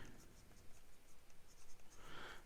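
Wet medium 18k nib of a Molteni Modelo 55S fountain pen, inked with royal blue, writing on paper: faint scratchy strokes that are close and quiet, rising briefly near the end.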